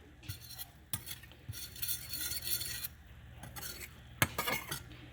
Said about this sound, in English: But you kind of want to keep stirring it so it doesn't burn.